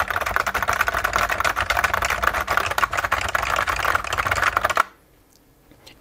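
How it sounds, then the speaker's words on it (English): Fast, dense typing hammers a computer keyboard linked to a Brother WP-1 word processor, loud rapid clatter for several seconds before stopping abruptly into near silence. "And if I hammer the keyboard,"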